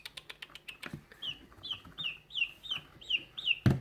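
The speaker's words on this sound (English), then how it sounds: "Which one's chirping? The little one." Small rescue-hen chicks giving a series of short, high, bright cheeps in quick succession, close by and fairly soft, with a few faint clicks and a brief thump at the end.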